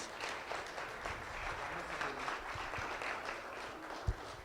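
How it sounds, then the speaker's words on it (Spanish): A church congregation applauding during a service, a soft, steady patter of many hands heard from a distance, with one sharp knock close by near the end. "denle un aplauso a Cristo por ellos"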